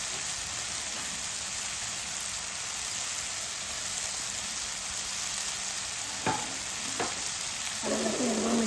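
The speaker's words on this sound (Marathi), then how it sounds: "आलं लसूण 1-2 मिनटं परतून घ्यायला" Ginger and garlic added to softened tomatoes sizzle steadily in a hot pan, a close, even frying hiss with a couple of brief spoon clicks and stirring scrapes near the end.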